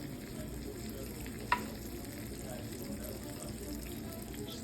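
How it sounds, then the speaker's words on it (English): Whole organic chicken sizzling as it comes out of the oven, a faint steady crackling sizzle with one brief clink, quiet throughout. "Listen to that sizzling coming out of the oven."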